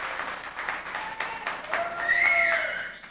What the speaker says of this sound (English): Can we have a round of applause for Mr. McElwee?